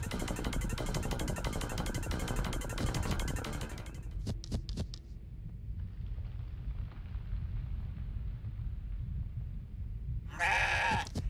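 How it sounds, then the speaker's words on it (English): An excited goat bleats in the video game CrossCode, a few short quavering cries over steady game music, followed by a louder bleating burst near the end. "Excited goat noises."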